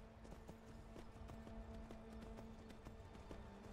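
Horse hooves clop in a steady, regular gallop rhythm within the Skyrim video game, a stolen horse running across the terrain, the repeated hoofbeats sitting over a constant background bed.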